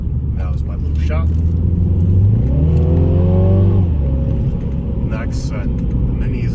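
A Mini accelerating hard to overtake on the Furka Pass in the Swiss Alps, its engine revving up loudly through a rising whine before easing off, close and continuous inside the car.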